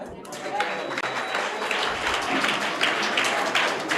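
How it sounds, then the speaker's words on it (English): A group of students at an English-medium school clapping together to welcome guests, busy continuous applause with an adult voice speaking over it. "By clapping, welcome them."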